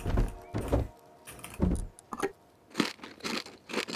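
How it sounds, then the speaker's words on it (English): Someone eating gives loud, crunchy chewing bites in uneven clusters with short pauses between, close and clear. "I'm eating."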